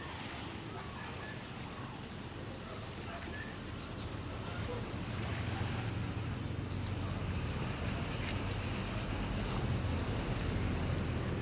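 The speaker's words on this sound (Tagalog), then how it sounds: "Ayan, nakikita nyo yung dagat oh" Ocean surf at Kalumpang Beach Resort in Argao rolls onto the shore as a steady, moderate wash of noise, with faint chirping insects high above it.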